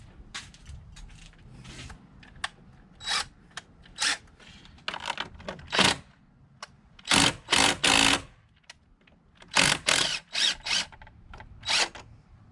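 A ratcheting hand tool clicks in short bursts, close and sharp, while nuts are taken off the hose clamps on a Camaro 3.6L V6 intake, with pauses between the strokes.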